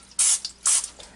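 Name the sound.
olive oil spray on turkey breast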